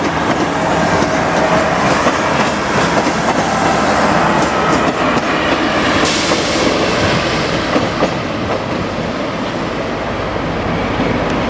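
A Pacer diesel train rumbles past close by, a steady loud roar of engine and wheels with rhythmic clatter on the rails throughout.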